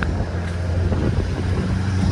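Car driving on a sandy beach: a steady engine and tyre rumble mixed with wind buffeting on the microphone, fairly loud and continuous, no talking.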